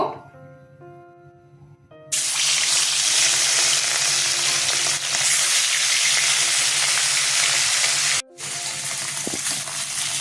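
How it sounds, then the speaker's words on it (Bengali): Katla fish pieces are slipped into hot oil in a kadai and break into a loud, sustained sizzle. The sizzle stops briefly, then resumes. A faint hum and tones sit under the quiet start. "এদিকে তেল গরম হয়ে গেছে আমি মাছ ছেড়ে দেব"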